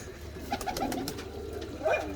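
Champion pigeons in a loft give soft, close cooing calls, two short runs of throaty coos separated by a pause, over faint room noise and light shuffling.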